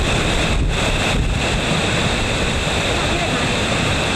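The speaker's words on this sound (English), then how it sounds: "The waves are that big." Waves on the Sandusky River near Tiffin, Ohio, rush loudly and continuously as a broadband roar, mixed with heavy wind buffeting the microphone.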